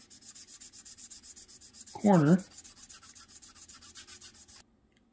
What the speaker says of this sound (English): I got a 240 grit sanding stick